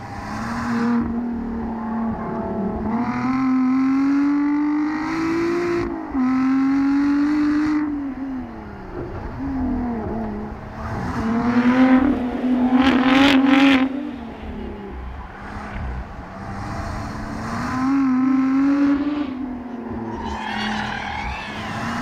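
A Lotus Exige Sport 410 accelerates hard on a track, its engine note rising and falling through repeated revving pulls with gear changes, loud and steady throughout.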